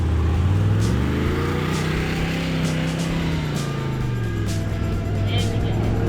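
A four-wheel drive vehicle pulls through very soft sand in first gear on the way from Ruby Gap to Finke Gorge, its engine labouring in a steady, close drone with changing pitch, with voices in the background.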